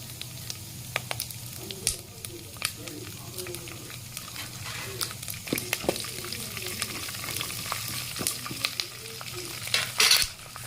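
Curry leaves dropped into hot oil in a home kitchen pan, crackling and sizzling steadily with scattered sharp pops and faint utensil scrapes as they are stirred, no talking.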